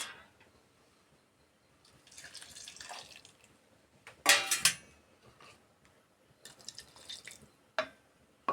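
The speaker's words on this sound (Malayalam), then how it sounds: "കുറച്ച് വെള്ളം ഒഴിച്ച് കൊടുക്കുക." Water is poured into a mixer jar holding coconut, faint splashing and trickling bursts with a louder pour midway and a few clinks, alone.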